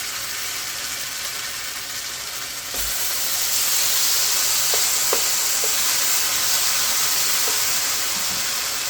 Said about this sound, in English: we're gonna be searing our beef